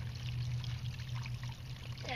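Water pouring from a hose into a garden bed under an orange bucket, a faint, steady trickling pour heard continuously, with a voice briefly at the end.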